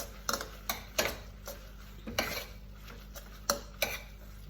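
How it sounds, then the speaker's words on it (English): A utensil stirs a garlicky lasagne sauce in a pan, giving irregular light clinks and taps against the metal over a soft background hum. "Okay, so just going to stir that through."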